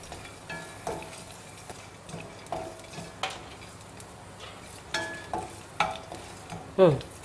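Dried turkey berries (sundakkai vathal) frying in hot oil in a pan, a soft sizzle under repeated scraping and stirring strokes from a utensil, with a sharper metallic scrape near the end.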